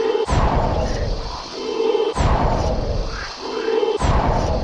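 An Incendio fire spell is cast three times in Harry Potter and the Chamber of Secrets on PlayStation, each cast a sharp whooshing burst that fades into a crackling, fiery tail, evenly spaced about two seconds apart.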